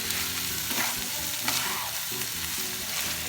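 Fried tofu being mixed with mayonnaise and seasoning in a pan, a continuous loud sizzle with rhythmic wet scraping and stirring strokes running under it.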